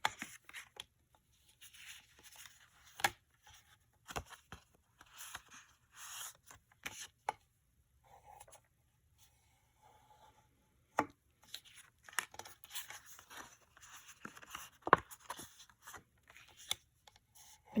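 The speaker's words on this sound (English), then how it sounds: "Fold that flap back away from you and burnish it with" Bone folder burnishing a folded paper flap while assembling a photo folio, heard as soft, scattered scraping rubs and light taps close up, alone without talk.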